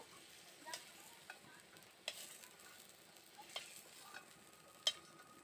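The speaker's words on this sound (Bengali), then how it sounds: "এই নুন হলুদটা দিয়ে আমি ভালো করে এবার নাড়াচাড়া করে আলুগুলোকে ভেজে নেব।" Potatoes frying with salt and turmeric in a pan give a quiet, steady sizzle, punctuated by light scattered clicks and scrapes of stirring.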